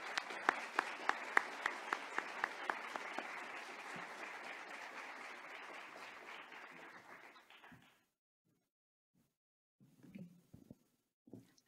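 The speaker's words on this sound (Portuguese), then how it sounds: "Eu convido mais uma vez as palmas para os homenageados." An audience applauds honorees at an educational merit medal ceremony, with steady clapping and a few crisp claps early on that fade out about two-thirds through, followed by silence and a few faint knocks.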